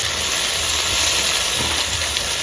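Tomatoes tipped into hot oil with ginger-garlic paste in a home kitchen give a loud, steady sizzling hiss that runs unbroken and close throughout, with no talking.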